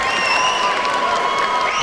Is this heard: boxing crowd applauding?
yes